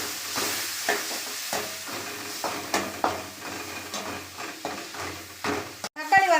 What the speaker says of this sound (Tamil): எண்ணெய் காஞ்சிச்சு தக்காளி சேர்த்துக்கலாம் நல்லா தக்காளி வதக்கிக்கலாம்